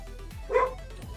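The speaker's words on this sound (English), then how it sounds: "The dogs are barking." Dogs barking indoors at a passing delivery truck, a single brief yelp-like bark burst standing out in the middle over quiet room tone.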